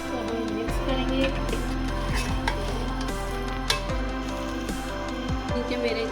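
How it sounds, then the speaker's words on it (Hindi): Macaroni being stirred into gravy in a pan, a spoon scraping and clinking against the metal with soft wet shuffling under a steady sizzle, repeated strokes at a moderate pace, close and fairly loud. "अब इसमें मैं शामिल कर रही हूँ मैक्रोनी को, और अच्छी तरीके से इसको हम मिक्स करेंगे।"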